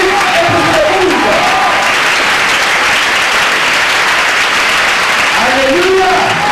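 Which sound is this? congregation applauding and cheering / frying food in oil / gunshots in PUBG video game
congregation applauding and cheering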